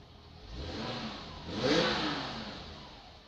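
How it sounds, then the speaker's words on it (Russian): A fully warmed-up Opel Senator A2 2.8 L-Jetronic engine revs up, peaks in a rising whine, then falls back toward idle, close by and with nothing else heard. "Это полностью прогретый мотор."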